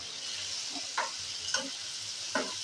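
Tomato chutney sautés in a pan over a raised gas flame, a soft steady sizzle broken by a few brief stirring scrapes, quiet and close.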